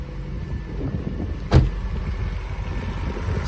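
A Mazda Miata engine idling rough from a bad fuel injector, a steady low close rumble with one sharp knock partway through.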